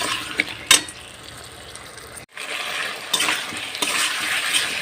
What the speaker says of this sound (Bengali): এবার আমি যে পরিমাণ মতো লবণ দিয়ে দিলাম আবার এটা আমি কষতে থাকবো